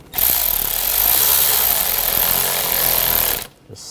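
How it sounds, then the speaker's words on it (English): Power tool tightening a worm-drive hose clamp on a 2013-2019 Ford Escape 2.0L four-cylinder engine, a loud steady whir running about three seconds close up, then stopping abruptly. "I'll tighten up this worm clamp."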